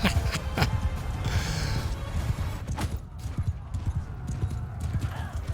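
Repeated clip-clop of horse hooves in Mount & Blade II: Bannerlord during a battle charge, a steady galloping rhythm with a faint whinny, loud and close over a busy battlefield din with some voices.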